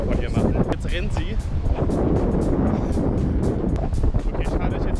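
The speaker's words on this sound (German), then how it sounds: "Ja, windig ist es auch." Strong wind buffets the microphone outdoors, a constant loud rushing roar through the whole stretch, with a voice speaking faintly underneath at times.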